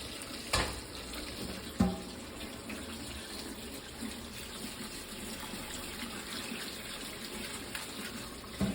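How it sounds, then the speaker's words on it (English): Cold tap water runs over boiled potatoes in a kitchen sink, a continuous soft hiss and splash with a couple of sharp knocks early on. The sound is fairly quiet and there is no talking. "immediately start rinsing that with cold water"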